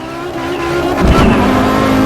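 Audi Quattro rally car lapping the Nordschleife in the Assetto Corsa racing game, engine droning loudly and rising as it revs hard, with a brief tyre scrub midway and no talking.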